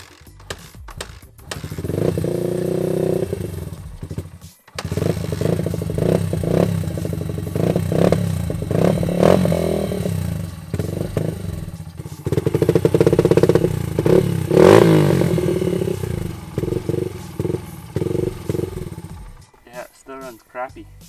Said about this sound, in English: the bike is still running pretty rough